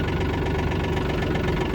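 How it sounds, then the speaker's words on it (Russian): A Yanmar AF-24 diesel mini tractor with a 24 hp engine idles close by, its low, even chugging knock holding a steady rhythm throughout with no voices. "двигатель запускается и работает супер мягко"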